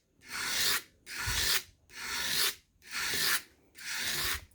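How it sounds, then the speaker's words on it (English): A saddlery knife edge is drawn along a leather strop in five even, rhythmic rasping strokes, each a close, dry rub separated by brief pauses. "I'm quite literally running it up the edge of the strop"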